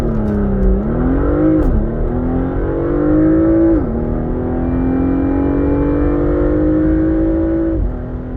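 Porsche Macan S with a 2.9 V6 during a launch-control acceleration test, the engine revving hard and loud through several rising pulls with distinct gear-change dips between them.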